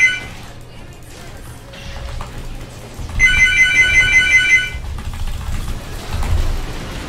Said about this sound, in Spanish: Joder, el teléfono, cogerlo, coño.